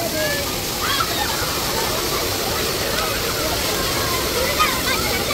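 Water pouring steadily from a shower feature at a shallow swimming pool, a loud, continuous splashing rush that holds even throughout, close by and without pause.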